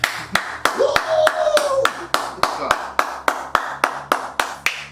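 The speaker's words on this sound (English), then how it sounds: "We're gonna have more claps." Steady rhythmic clapping for a guest, sharp evenly spaced claps about twice a second, loud and close, with a voice speaking under them.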